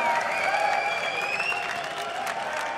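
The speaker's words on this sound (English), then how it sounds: "And an applause from the crowd, of course, as it suits." Steady applause from a large crowd at a League of Legends EU LCS esports match, dense clapping that holds at an even level throughout, with a faint murmur of voices mixed in.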